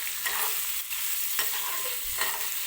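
Paneer cubes frying in oil for matar paneer, a constant sizzle punctuated by several spatula stirs and scrapes, up close with no one speaking.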